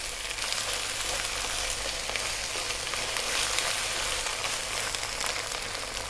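Thick cream poured into a hot pan of vegetable pasta sauce sizzles and hisses steadily, a dense continuous frying crackle close by with no voices.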